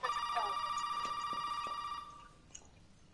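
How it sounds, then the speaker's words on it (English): Telephone ringing in the video game Resident Evil 7: a bright electronic bell trills steadily for about two seconds, then cuts off, leaving a faint quiet tail with a small click near the end. "Let's answer the phone."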